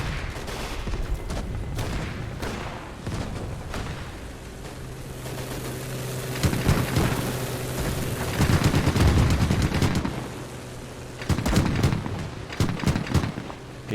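Machine gun fire in the WWII game Gates of Hell rattles in rapid bursts alongside heavier booms and a low engine drone, the fire growing denser and louder in the second half.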